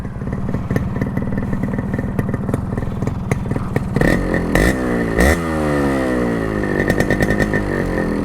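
Yamaha RX100 two-stroke motorcycle fitted with a cut muffler exhaust, idling in a rapid crackling beat, then revved sharply several times with rising and falling pitch, loud and close with no talk.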